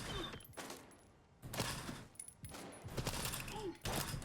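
A suppressed SMG fires in short, crackling bursts in Stalker 2, with mechanical clicks and rattles between volleys suggesting a jamming weapon; the shots are close and fairly loud.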